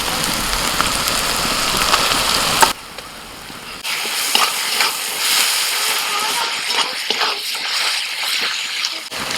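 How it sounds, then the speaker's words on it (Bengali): Ginger-garlic paste hits hot oil over fried onions in a pan and is stirred, producing a crackling sizzle with a brief lull partway through, then scraping stirs over a steady hiss. "এখন আদা রসুন বাটা দিয়ে দিচ্ছি"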